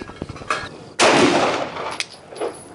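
A Glock 9mm pistol fires a single Winchester 147 grain subsonic round: one sharp, loud report that decays quickly. Fainter clicks and knocks come before it and after it.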